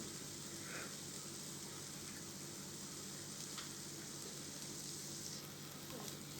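Diced potatoes with salt frying in ghee, a faint steady sizzle and crackle with occasional light stirring.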